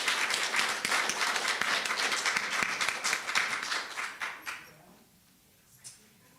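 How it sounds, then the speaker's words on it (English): Congregation applauding during a Unitarian Universalist church service, a dense steady patter of many hands that thins into a few scattered claps and fades out near the end. "let's give them a big round of applause."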